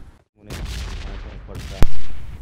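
Gunfire in a battle royale video game, with a couple of loud booming shots separated by a short silence and a sharp crack near the end, close and forceful.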